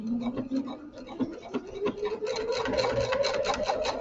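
A sewing machine stitches along the edge of a placemat made from a dish mat and jelly roll fabric strips, its motor whirring close and steady with rapid needle ticking that speeds up partway through.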